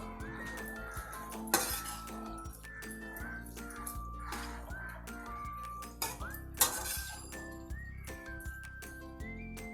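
A vegetable dish with tamarind being stirred in a pot, with clinks and scrapes of a metal spoon against the vessel over a bed of background music, and no talk.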